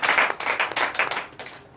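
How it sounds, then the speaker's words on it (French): A church congregation applauds loudly during a night service of deliverance and prophecy, with dense rapid clapping that fills the room for under two seconds, close and steady, then tapers off briefly near the end. "Donc je vous demande d'applaudir très fort."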